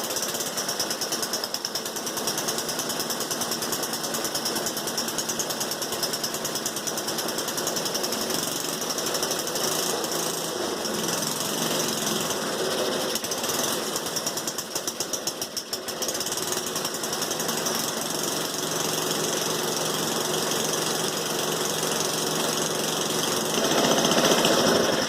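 A snowblower engine, run for the first time in over 15 years, starts up and keeps going with a loud, steady, rapid small-engine chatter that holds without a break and swells slightly near the end.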